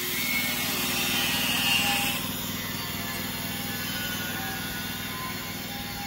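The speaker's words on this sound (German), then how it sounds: "Um uns herum wird gesägt und gehämmert." Construction sawing near a holiday stay in Uluwatu, Bali: a steady buzzing power-saw drone with a whine that drops off after about two seconds, continuing at a lower level.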